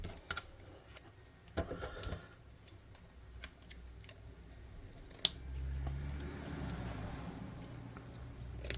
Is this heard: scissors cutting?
yes